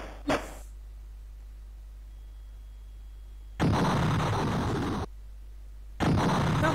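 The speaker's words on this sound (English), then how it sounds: "those two exploded on the same spot" Skimmer weapons exploding in the Amiga video game Charr, a short pop followed by two loud, sustained noisy blasts about two seconds apart, with no talk.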